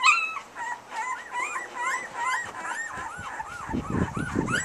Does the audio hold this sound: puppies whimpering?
yes